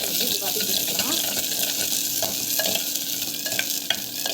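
Turkey berries (sundakai) sautéing in a pan for vatha kuzhambu, a constant bright sizzle with the scrape of a stirring spoon against the pan running throughout, close and fairly loud.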